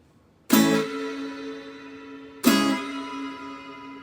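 Two strummed chords on a new acoustic-style guitar being demonstrated, each struck loudly and left to ring out and decay, with no talking.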